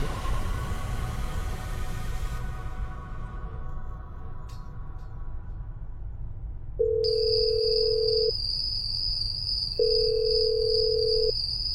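A telephone ringback tone plays as a call is placed to a person who may not answer. Two long, steady electronic tones sound about three seconds apart, with a constant high whine and low hum underneath.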